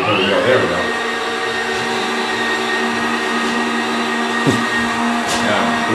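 A motorized telescope mount at an observatory slews toward a star, giving a steady whirring motor drone with a faint high whine that holds nearly unchanged throughout.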